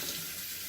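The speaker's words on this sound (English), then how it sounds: "water source from the tap" Tap water runs in a steady, even hiss that fills the short moment without a break, faint and with no talk.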